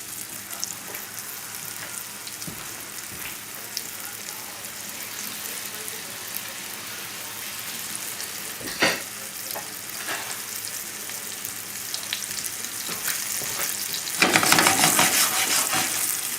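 Flour-dusted Chilean sea bass fries over a very high flame in a hot pan, giving a steady close sizzle with scattered light crackles and a burst of louder spitting near the end.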